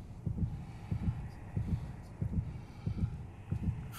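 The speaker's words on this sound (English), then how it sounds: "Oh, what's up with the heartbeat?" A steady heartbeat thumps during healing in the God of War Ragnarok video game, a low double-pulse repeating about every three-quarters of a second under faint game ambience.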